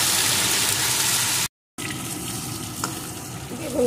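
Chopped eggplant fries with potatoes in a pan, giving a continuous close sizzle that stops briefly in a short silent gap, then comes back with light clinks.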